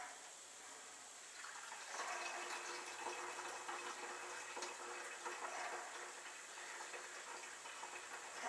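Liquid from a small all-grain homebrew mash vessel pours out the bottom in a continuous soft gush, starting after a quiet second and running steadily at low level with no speech.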